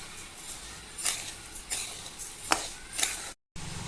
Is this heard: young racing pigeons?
no